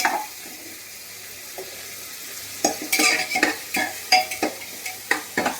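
Onion frying in oil inside a pressure cooker, a steady close sizzle that turns busier halfway through as a series of sharp stirring scrapes and clinks join in, no voices.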